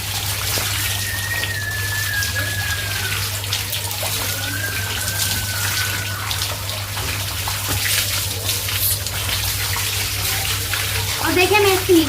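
Water poured and splashing steadily while a stray cow is bathed outdoors, a continuous close wash of running water with someone talking over it.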